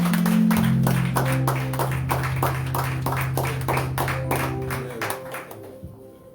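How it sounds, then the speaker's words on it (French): A church congregation at a Sunday service in Baltimore breaks into sustained applause, dense clapping that stays loud for several seconds before thinning out, with a low sustained keyboard or organ tone underneath. "Applaudissez pour lui, s'il vous plaît"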